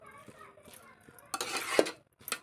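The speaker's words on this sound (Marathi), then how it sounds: "सुरुवातीला थोडा मोठा गॅस ठेवून भांडं पूर्ण तापेपर्यंत आपण हे एकसारखं हलवायचं आहे" Grated red pumpkin is stirred in a heating pot over a high flame, with soft scraping at first and then a louder burst of scraping and sizzle, a pause, and one final scrape.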